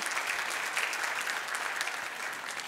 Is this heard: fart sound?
no